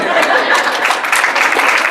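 A lecture audience breaks into scattered, modest clapping that runs steadily for a couple of seconds, with light chuckles and murmured chatter mixed in.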